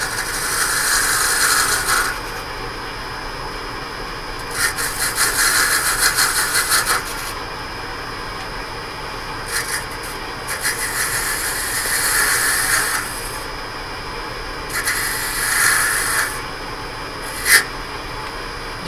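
A parting tool cutting into wood turning on a lathe, making ring blanks, in repeated bursts of harsh rasping scrape separated by quieter machine hum, with the wood chipping at the edge.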